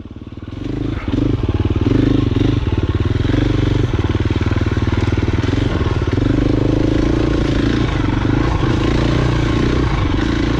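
A dirt bike engine idles steadily on a trail near Fruita, Colorado, a loud, close, continuous throbbing putter with slight rhythmic variation after a brief rise at the start, no voices over it.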